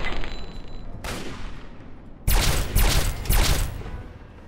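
Rapid bursts of gunfire from the video game Fallout 3 crackle in a busy, dense mix, with a sharp volley near the end, loud and without any voices.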